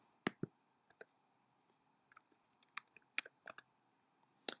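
Computer keyboard keys typed and clicked in short, irregular bursts of crisp taps, fairly close and quiet, with brief pauses between groups of keystrokes and no talking.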